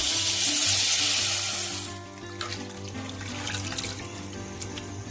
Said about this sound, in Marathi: तर मी आता अर्धा लिटर दूध टाकते